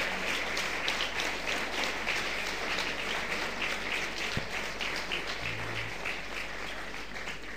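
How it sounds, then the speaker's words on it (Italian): An audience applauds the student orchestra of Liceo Scientifico Da Vinci, a 25-member school ensemble, with steady, dense clapping that holds at an even level for the whole stretch, with no voices over it. "Un applauso ancora per l'incredibile performance."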